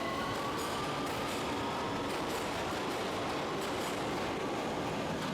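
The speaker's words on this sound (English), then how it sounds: "The train moves away quickly." A train rumbles steadily with a broad roar and faint rhythmic clatter, loud and continuous as it rolls along the track.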